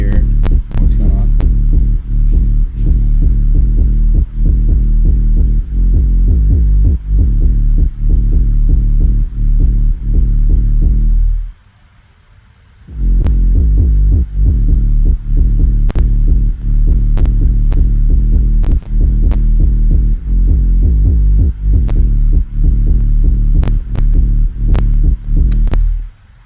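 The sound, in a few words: soloed sub bass synth, sine wave with white noise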